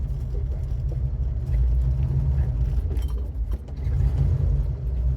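A Chevy Nova rolls around the block, its engine a steady low rumble from inside the car with slight swells in loudness as it drives.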